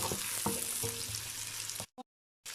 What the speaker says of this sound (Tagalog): Uminit na po yung ating mantika. Ilagay na. Gusahin natin ito hanggang maging brown.